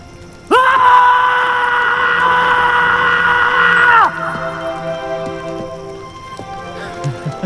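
A person screams loudly, one long sustained piercing cry held for several seconds at full volume, then cut off, leaving quieter tonal music-like sounds and scattered noises afterward.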